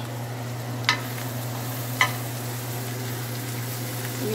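Egg masala curry fries in a pan with a gentle, steady sizzle and a low hum, broken by two brief sharp scrapes of a spoon against the pan, with no voices.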